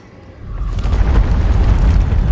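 A deep booming video game explosion swells up after a quiet start and rumbles on heavily.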